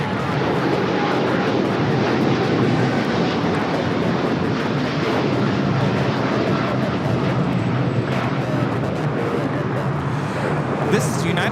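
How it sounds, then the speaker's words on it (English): United Airlines Boeing 787-10 Dreamliner on takeoff at LAX, a loud continuous engine roar with broad rushing noise holding steady throughout, with a voice talking over it. "This is United Airlines Flight 39 taking off to Tokyo Haneda on the 787-10 Dreamliner"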